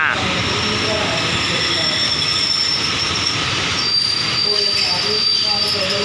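Rapid train 111 from Bangkok to Den Chai rolls into a station with continuous loud wheel squeal and a heavy rumble of railcars, and a faint voice sits under the noise.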